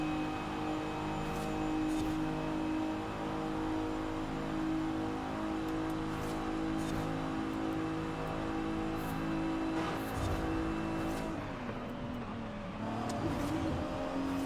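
Lexus sports car engine droning steadily in Forza Horizon 5 racing, a sustained high-pitched whine with shifting revs throughout, a brief dip and surge near the end, no talk over it.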